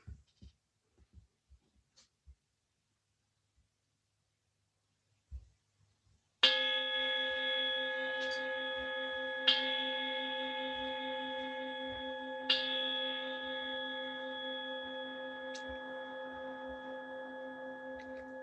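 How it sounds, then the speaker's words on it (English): A meditation gong struck once and left ringing, a long shimmering tone with rich sustained overtones. Two softer re-strikes add swells partway through, and the ring fades slowly in a quiet room. "I'm going to sound the gong."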